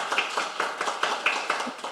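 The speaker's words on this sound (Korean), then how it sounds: "다시 한번 박수 부탁드리겠습니다." Audience at a Korean policy debate forum on medical innovation claps in a regular, rhythmic pattern of distinct claps, fairly close and clear, with no talk over it.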